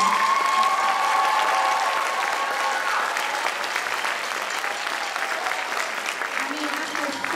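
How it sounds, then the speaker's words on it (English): Steady, full audience applause for a school honor band at a Christmas concert, dense clapping that holds throughout and tapers slightly toward the end. "Please give our DMS Honor Band one more round of applause."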